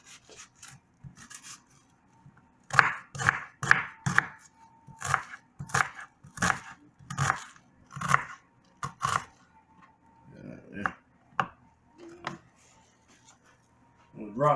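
Knife chopping collard greens on a cutting board, a steady run of close, sharp cuts in bursts, with someone talking at the start and in the pauses.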